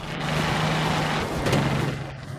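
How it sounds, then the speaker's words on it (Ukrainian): A steady low vintage car engine rumble in the game Mafia: The Old Country, droning and rolling continuously and close by, with a brief rattle partway through. "Машини гучні трясуться на дорогах."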